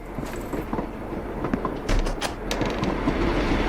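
Train sounds at a station in the Black State video game trailer: a steady rumbling rail bed with clicking, clattering wagon noises and sliding mechanisms, continuous and moderately loud throughout.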